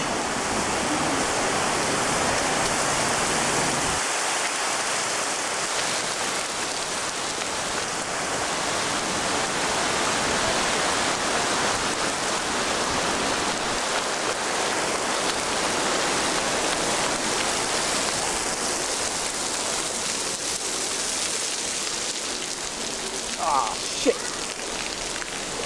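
Heavy rain pours down in a dense, steady roar of hissing water that fills the whole scene at a constant loudness, with a brief spoken exclamation near the end.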